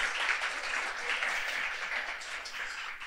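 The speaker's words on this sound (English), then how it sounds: "please one applause" Audience applause welcoming six secondary school student guests from Denmark at a finance panel event, a steady dense wash of clapping from a crowd that holds evenly for the whole stretch.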